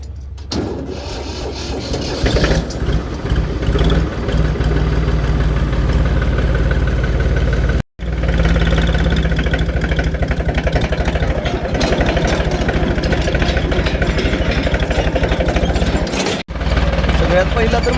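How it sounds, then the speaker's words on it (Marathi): A tractor engine starts cold and settles into a loud, steady, rattling diesel idle that runs close by for the whole stretch, with a brief dropout midway and another near the end. "ट्रॅक्टरचा कोल्ड स्टार्ट."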